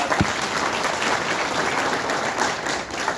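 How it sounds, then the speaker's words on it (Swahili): Steady, full applause from a gathered audience at a memorial service and body viewing, continuous dense clapping close by with no talking. "Haya, tuwapigie makofi mazuri."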